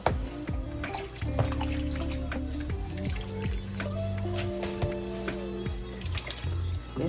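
A turkey neck is rinsed under a running kitchen tap, water splashing and trickling steadily into the sink with a constant close-up flow and some dripping.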